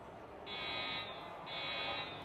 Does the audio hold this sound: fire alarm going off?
yes